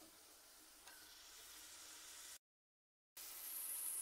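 Onions sauté in a pan with a steady, soft sizzle and hiss, fairly faint and continuous, broken by a brief dropout of silence midway.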